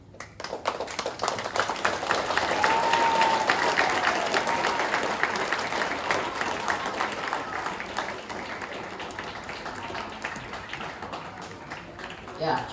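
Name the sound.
applause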